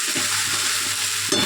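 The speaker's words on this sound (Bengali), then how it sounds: "এবার একটু নাড়াচাড়া দিয়ে ভালো করে কষিয়ে ভাজা করে একেবারে নামাবো।" Taro flower curry cooked dry without water sizzles loudly in a pan while a spatula stirs it in repeated scraping strokes. A steady frying hiss runs throughout, with no talking.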